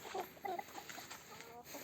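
Several chickens cluck and chatter in short bursts near at hand in a coop, over a steady background hum.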